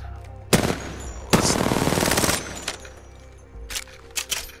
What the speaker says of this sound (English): this is the Pinger SMG, I think it was called